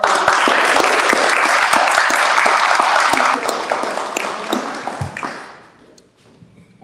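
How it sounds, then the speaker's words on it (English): Audience applause for teachers and finalists at a Connecticut History Day pep rally: dense, sustained clapping from a crowd that holds steady for several seconds, then thins out and fades to quiet near the end. "please give a round of applause to all of them"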